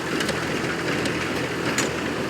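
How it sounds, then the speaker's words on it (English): A Massey Ferguson 35 tractor's Perkins diesel engine runs smoothly and steadily outdoors in a hay field, a continuous even drone with faint mechanical clatter, heard alone without talk. "The smooth Perkins diesel engine."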